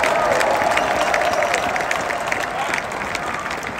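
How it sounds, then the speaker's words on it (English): Audience clapping at a large conference event, loud, dense applause from a sizable crowd that stays strong throughout and eases slightly toward the end. "Let's clap that shit up."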